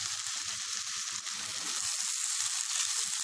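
Chicken simmering in masala in a pan over a low gas flame, giving a steady soft sizzle with faint low bubbling, alone and fairly quiet.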